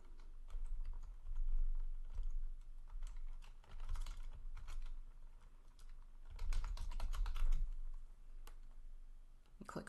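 Fingers type an email address on a computer keyboard, a steady run of close, crisp key clicks with short pauses and louder bursts, with no voices.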